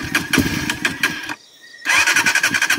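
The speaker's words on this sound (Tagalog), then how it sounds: "Hindi umandar ang motor natin" A motorcycle engine cranks loudly in rapid chugging bursts without catching, pauses briefly in near silence, then cranks again just as loudly.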